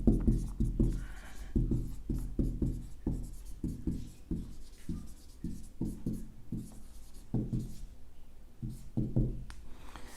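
A pen or marker scratches out quick strokes on a board or paper while a Python expression is rewritten, with short rapid bursts of writing broken by brief pauses, close and fairly quiet, with no voices.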